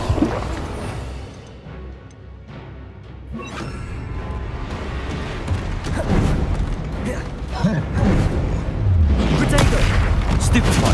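Repeated blasts from the Confringo fire spell in Hogwarts Legacy rumble through a dense, chaotic battle, heavy booms stacking up over continuous combat noise and crackling impacts.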